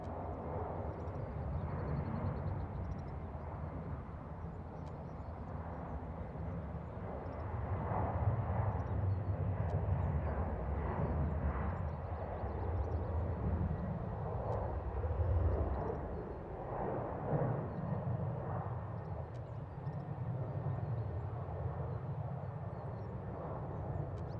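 An Air Canada airliner, flight 883, on runway 06 right at Toronto, giving a steady distant engine roar that swells and fades slightly, with no talking.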